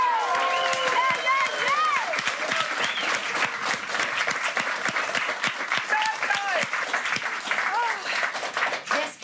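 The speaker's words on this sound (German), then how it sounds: "Deswegen noch mal einmal Applaus für Milliarden!" Studio audience applause at a German late-night TV talk show, loud and sustained throughout, with bursts of cheering and a few voices calling out over the clapping.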